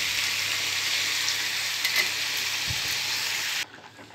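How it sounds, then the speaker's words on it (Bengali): Crab masala sizzling hard in a hot pan as water is poured in, a steady loud frying hiss that abruptly cuts to a much quieter simmer near the end. "এবার আমি জল দিয়ে দিচ্ছি।"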